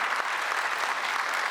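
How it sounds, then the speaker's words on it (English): Steady, dense applause from a discussion-panel audience, loud and continuous for a brief stretch with no voices over it. "Yes, big round of applause."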